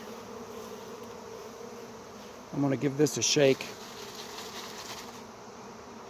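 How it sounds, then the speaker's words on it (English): A honey bee swarm being captured outdoors, a dense continuous buzzing hum that holds steady across the whole stretch, with someone briefly speaking over it partway through. "Get all the bees off of there."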